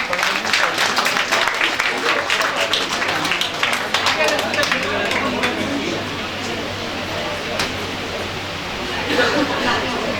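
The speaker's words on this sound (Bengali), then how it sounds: "সবাই একটু জোরে হাততালি দাও।" An audience at a university endowment prize distribution applauds in a steady, close burst of clapping mixed with crowd chatter, keeping up a fairly even level across the whole stretch.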